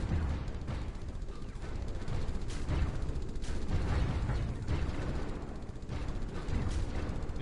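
Point defense guns firing in the Stellaris space strategy game, a steady dense rattle of rapid shots and thuds that continues without a break, loud and busy.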